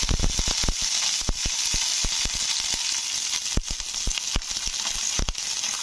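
Green chillies and peanuts frying in oil for chutney, a loud steady sizzle peppered with frequent sharp pops and spits, close and continuous without talking.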